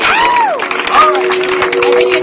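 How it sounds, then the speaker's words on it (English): Circus audience clapping and cheering in a lively burst, with shouts and whoops rising over continuous applause close by. "Give her a huge round of applause for keeping Carl alive"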